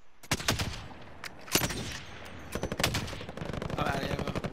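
Shooter video game gunfire cracks in sharp separate shots and rapid bursts, loud and close, with sparse voice chat under the gunfire.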